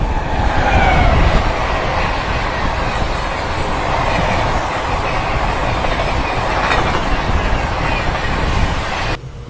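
Passenger train racing past at about 100 km/h, a loud continuous roar with rhythmic clickety-clack of wheels on rail joints and some wheel squeal, steady throughout before cutting off at the very end.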